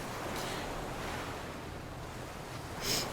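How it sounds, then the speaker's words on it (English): Soft ocean surf washing against jagged rocks in a coastal cove, heard as a steady broadband wash with a gentle swell near the end, set as tabletop RPG background ambience with no talk. "a soft sound of waves crashing against the jagged rocks echo in your ear"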